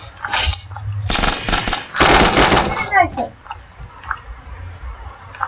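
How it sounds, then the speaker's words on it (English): Bursts of automatic gunfire in the video game Unturned, loud rapid volleys of shots in quick succession, with people talking around them. "I shot too many bullets"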